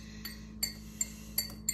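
Small seafood forks clinking against a bowl or glass while stirring food in a home kitchen, several light, sharp chinks at an uneven rhythm over a steady low hum.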